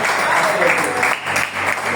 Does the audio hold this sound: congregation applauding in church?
yes